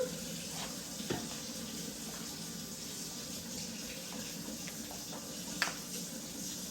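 A kitchen tap runs cold water in a constant hissing stream, with a few faint clinks and clatters of dishes at the sink.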